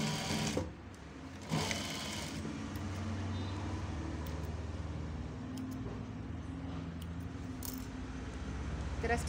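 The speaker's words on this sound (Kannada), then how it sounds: "ಈ ಥರ ಸ್ಟಿಚ್ ಹಾಕ್ಕೊಳ್ಳಿ" Sewing machine stitching a blouse back neck design with a cord, a steady mechanical whir running nearly throughout, preceded by a couple of brief handling clicks at the start.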